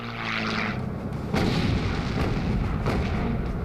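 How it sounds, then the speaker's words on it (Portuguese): The 127 mm naval guns of the USS Laffey boom repeatedly in World War II combat over a constant roaring background, several sharp blasts spaced about a second apart, loud and distant-sounding. "Os canhões de 127 milímetros do USS Laffey abrem fogo"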